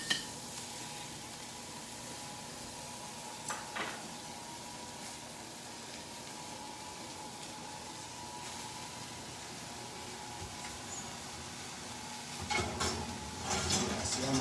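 Homemade chow mein noodles frying in a pan until brown and crispy give a steady, faint sizzle throughout, broken by a few scraping clinks of a utensil against the pan and a louder clatter near the end, with no talk.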